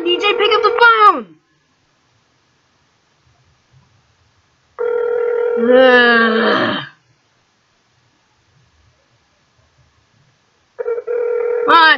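A cartoon telephone rings three times during a call to DJ, each ring a short electronic burst separated by several seconds of silence.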